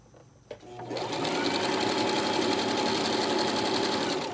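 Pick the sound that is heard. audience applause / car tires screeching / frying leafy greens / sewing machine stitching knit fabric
sewing machine stitching knit fabric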